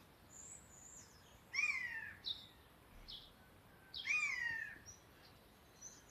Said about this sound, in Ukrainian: Якась пташка на березі сидить, щось кричить, сойка чи що.